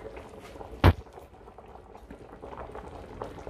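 Crowfoot soup with yam, dumplings and pumpkin boiling in a pot, giving a steady close bubbling and simmering under one sharp clank of a lid or utensil.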